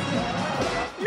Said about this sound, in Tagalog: Mas lumakas ang hiyawan sa pangmalakasang opening